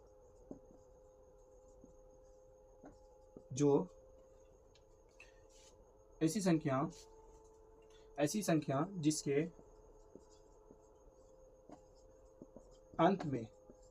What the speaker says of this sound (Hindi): चलिए लिखते हैं सम संख्या।